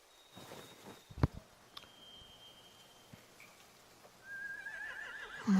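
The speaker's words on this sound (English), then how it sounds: "They have horses." A horse neighs and whinnies at a distance within the post-apocalyptic world of The Walking Dead: The Final Season video game, with quiet background sounds, a few faint knocks, and a louder rise near the end.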